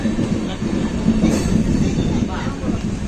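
Passenger train in reserved coaches pulling away, a steady low rumble of wheels on rails with faint clatter throughout, loud and continuous with no talk over it.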